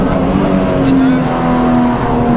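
Supercharged BMW M3 E46 with about 530 hp pulls hard, its engine a loud, steady, close roar that holds throughout without a break.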